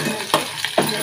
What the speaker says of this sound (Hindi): पाँच मिनट तक हम इसे अच्छे से फ्राई कर लेंगे